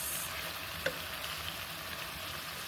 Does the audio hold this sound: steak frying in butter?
yes